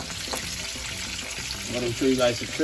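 Onions sizzling steadily in hot oil in a pan, a close, continuous crackling fry with a spoken voice coming in briefly near the end.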